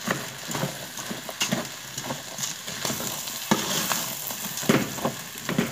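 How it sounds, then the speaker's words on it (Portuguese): Tuscan sausage with colorau being stirred in a pan, a steady sizzle of frying broken by repeated scraping and knocking strokes of the spoon, close and moderately loud, with no talk. "Agora eu vou mexer novamente."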